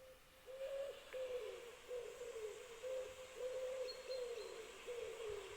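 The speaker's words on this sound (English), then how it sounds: "I was going to impart my absolute love of the wood pigeon sound." A wood pigeon's soft, repeated cooing call, the phrases running in a steady rhythm with brief pauses, mid-distance against a quiet background hiss.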